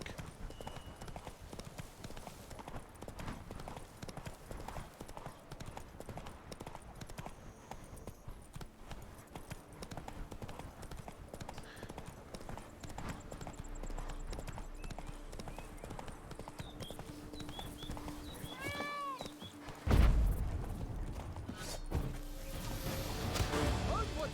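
Rhythmic clip-clop of horse hooves in The Witcher 3 runs steadily throughout, with a brief whinny and a louder thud near the end.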